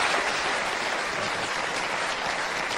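Sustained applause from a television studio audience, many hands clapping together in a thick, even roar that neither swells nor fades.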